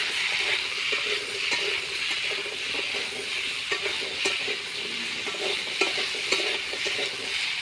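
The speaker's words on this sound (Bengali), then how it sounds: "দিয়ে আলুটাকে ভেজে নেব।" Cut potatoes with a little salt frying in hot oil in a pan, a steady close sizzle with scattered crackles and the occasional scrape of stirring, no voices.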